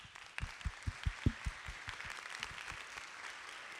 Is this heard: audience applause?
yes